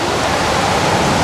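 Floodwater rushes along a Bangkok street and pours into shops, a loud, close, continuous churning roar with no speech.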